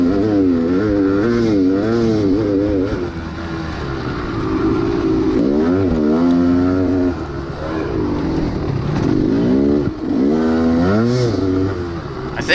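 Dirt bike racing at Locust Gap, its engine revving out without power while climbing a hill, loud and close, with repeated rising and falling rev sweeps in several surges over a steady motor drone.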